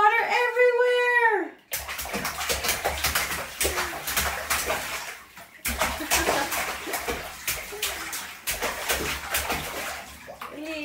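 A child splashes and sloshes water in a bathtub, with repeated loud splashes in irregular bursts, near and echoing, and a voice at the start along with excited cries over the splashing.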